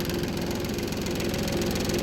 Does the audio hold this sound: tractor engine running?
yes